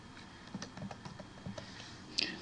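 Quiet keystrokes on a computer keyboard as a WordPress admin login address is entered, a short irregular run of soft taps ending in a slightly louder clack.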